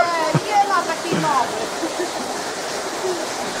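Water flows through an overflow channel in a steady, rushing stream, close and fairly loud, with a few brief voice sounds over it early on.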